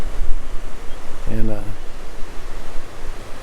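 A river popular for whitewater kayaking rushes steadily near a campground, a broad, continuous wash of flowing water, with a single short spoken word briefly heard over it.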